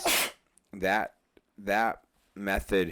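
A person sneezes once, a sharp burst right at the start, followed by people talking in a conversation.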